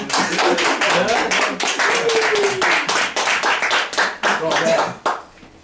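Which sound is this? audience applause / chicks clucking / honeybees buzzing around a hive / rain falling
audience applause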